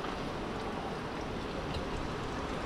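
Water runs steadily as dishes are washed in an outdoor sink at a caravan kitchen by the sea in Turkey. The rushing sound is continuous and fairly close, with no talking.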